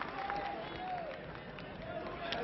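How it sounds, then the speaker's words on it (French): A wrestling audience applauds a wrestler, sustained clapping and crowd noise at a modest distance under a commentator's voice. "Et très applaudi par le public."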